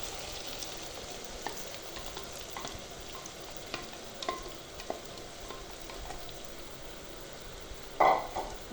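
Pre-fried potatoes are added to a pan of cooked masala and fry with a soft, steady sizzle while being stirred, with faint scrapes and one louder clatter near the end, no talk heard.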